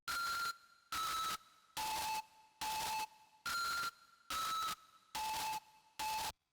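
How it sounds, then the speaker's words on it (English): A white noise synth with hyper distortion, chorus and reverb plays eight evenly spaced bursts in a steady rhythm. Each burst is a harsh, bright hiss with a ringing tone on top, and short gaps of near silence separate them. "Then I have this white noise synth that I made"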